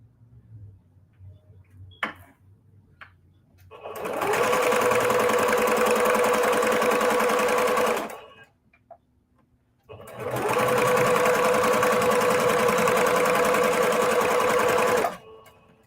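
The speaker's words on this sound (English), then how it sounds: "I'm just going to grab the next 2 pieces, line them up, and then sew." A sewing machine stitches quilted pocket heart pieces cut from shabby-style fabric, running in two steady, loud bursts of about four and five seconds, with short quiet pauses and faint handling sounds between them.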